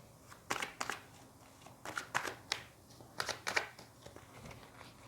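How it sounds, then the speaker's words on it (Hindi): Tarot cards being shuffled by hand during a card reading: a series of quick papery riffles and flicks in short bursts, close and moderately quiet, with no talking. "Shuffle these cards."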